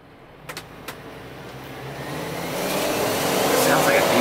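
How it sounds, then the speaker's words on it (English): A U-Haul 14-foot Ford box van's engine runs with a diesel-like rumble, building steadily louder over a few seconds, with a couple of brief clicks near the start. "Sounds like a diesel bit."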